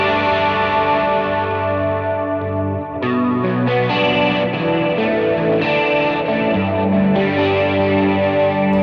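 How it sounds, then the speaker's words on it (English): Electric guitar playing a worship song on a gritty overdriven tone with chorus-like modulation, selected from a Morningstar MC6 MIDI controller; sustained chords ring loud and continuous, with a brief dip near the three-second mark, no talking. "Go to the grit sound with the modulation."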